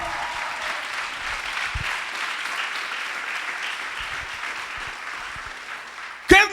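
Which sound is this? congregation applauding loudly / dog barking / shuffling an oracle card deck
congregation applauding loudly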